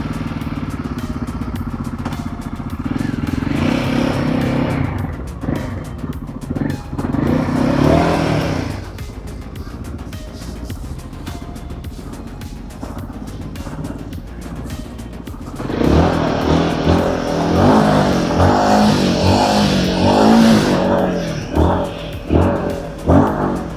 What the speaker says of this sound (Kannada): ರಾಯಲ್ ಎನ್ಫೀಲ್ಡ್ ಗೆರಿಲ್ಲಾ 450 ಬೈಕ್ ಇದೆ. ಸೊ ಇದನ್ನು ರೈಡ್ ಮಾಡೋಣ.